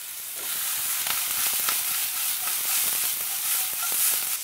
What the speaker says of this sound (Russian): Жарим, жарим, жарим, жарим.